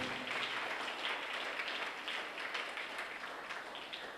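A church audience at a feast-day mass in Sathampatti claps to welcome priests, a brief, moderately loud wash of applause with no voices over it.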